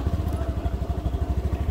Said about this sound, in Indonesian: Coba kita nyalakan motornya.